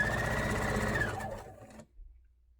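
A sewing machine stitches folded quilt pieces together in a steady, fast mechanical rattle that slows and stops after about a second and a half, leaving quiet room noise.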